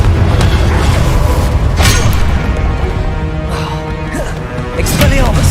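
Repeated Confringo explosion spells from Hogwarts Legacy boom and crash in quick succession, sharp impacts layered over continuous loud game audio with a voice talking.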